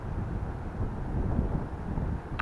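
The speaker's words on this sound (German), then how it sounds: "So einen Wind hatte ich da oben." Strong mountain wind on the Brocken summit at New Year's Eve, a loud continuous roar buffeting the microphone close up, with no voices.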